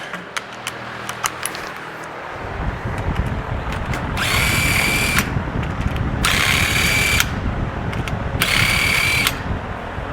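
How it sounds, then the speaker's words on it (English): A power tool removes the head bolts from the engine of a Bennche Spire 800 UTV, sounding as three loud, even whirring bursts of about a second each, with faint clicks and clanks before them. "Let's take these head bolts out now, the rest of the way"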